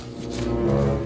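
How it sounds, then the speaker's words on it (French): A cow gives a single low, sustained moo from a herd of cattle standing by a neighbour's fence about fifty metres away, with no talk over it. "J'ai des vaches juste à 50 mètres de moi."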